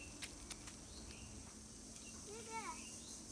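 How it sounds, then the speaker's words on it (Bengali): Crickets chirping all around at night, a faint, steady high-pitched drone that fills the background, with a voice briefly heard over it. "আজকে চারোদিক দিয়ে শুধু ঝিঝি পোকার শব্দ"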